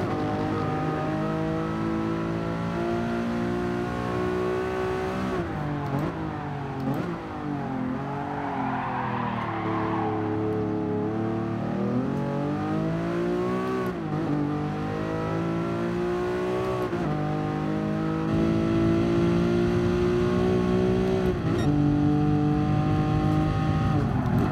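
A race car engine in GT Sport revs hard through a flying lap, loud and continuous, its pitch sweeping up through the gears and dropping under braking, with brief tire noise in corners.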